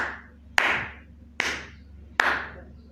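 Three sharp, separate claps ring out about a second apart, each loud and fading quickly, from a congregation applauding during a church service in praise of the Lord.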